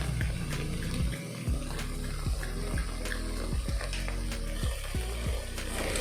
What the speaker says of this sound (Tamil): ஒரு ஃப்ரை பண்ணிக்கோங்க.